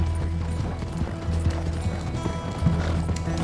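Horse hooves pound in a steady galloping clip-clop while chasing a fast stagecoach in Red Dead Redemption 2, with rattling wheels and tack underneath.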